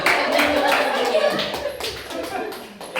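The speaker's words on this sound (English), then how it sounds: "We round of applause for Kiki." A small group, children among them, claps for a volunteer in a Kumon class, the scattered clapping fairly near and mixed with light chatter and a chuckle.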